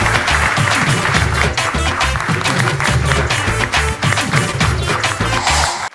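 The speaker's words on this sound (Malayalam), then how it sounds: "ജോസിന് നല്ലൊരു കൈയടി." Loud, sustained audience applause for a stand-up comedian on a comedy stage show, dense overlapping claps filling the room with a low rumble underneath for several seconds.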